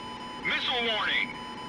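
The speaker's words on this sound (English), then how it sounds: "Missile warning!" A missile warning alarm sounds in the cockpit of a Tornado jet in a video game, a single warbling, sweeping electronic tone lasting under a second over a steady background hum.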